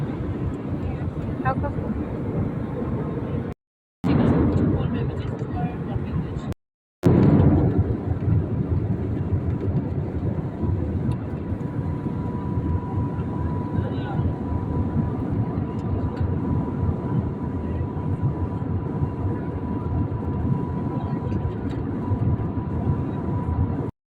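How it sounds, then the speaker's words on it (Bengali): Steady, low engine drone fills an airliner cabin before departure, interrupted by two brief silent cuts near the start and continuing evenly throughout. "কিছুক্ষণের মধ্যে আমাদের প্লেন ছেড়ে দেবে আমরা বসে পড়েছি"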